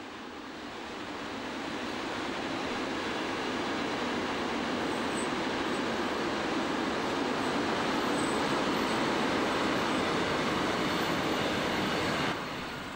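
A Reichsbahn diesel locomotive, 118-770, pulls out of Wolkenstein station in the Erzgebirge, giving a steady broad rumble and roar that swells in the first seconds and holds loud and continuous throughout, with no voices.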